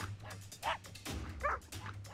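A dog in a frantic freakout, giving short yelping barks and whimpers in bursts over a steady low hum, fairly close and moderately loud.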